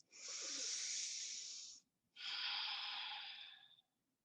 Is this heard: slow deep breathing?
yes